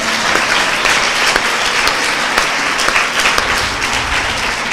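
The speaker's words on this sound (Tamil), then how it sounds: "ஜோரா கைத்தட்டுங்க பார்க்கலாம்" Dense audience applause at a church gathering, many hands clapping steadily and loudly for the whole stretch with no break.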